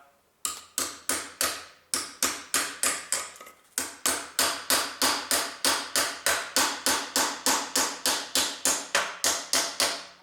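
A knife is worked into the joint between the engine and gearbox of a Honda Civic 1.8 R18A1 during engine removal, producing a rapid, steady run of sharp, close metallic taps after a short pause near the start.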